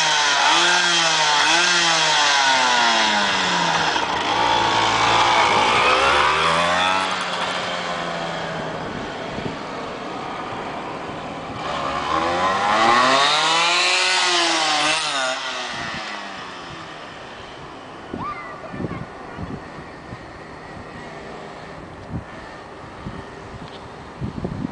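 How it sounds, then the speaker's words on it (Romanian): A motorcycle at a race start, its engine loud and close, revving up and down in rising and falling sweeps, then fading as it pulls away, leaving scattered knocks and handling noise. "Acum vine, pornea, ia startul, Vasile!"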